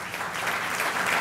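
An audience at an Armenian church community gathering applauds its clergy, a brief burst of dense, steady clapping from many hands.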